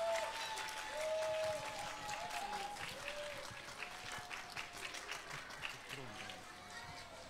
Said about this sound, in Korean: 케이크 옮겨줄 때 박수를 한번 맞이해볼까요?